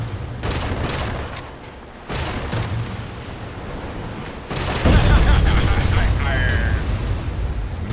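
Ship cannons boom in the naval video game Pirate Commander, heavy blasts and rumbling volleys layered into a dense, loud wash of battle noise with a sharp new barrage midway.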